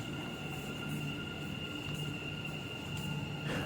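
Dubai Metro train standing at the platform, a steady low rumble and hum with faint tonal whine and soft intermittent clatter, no voices.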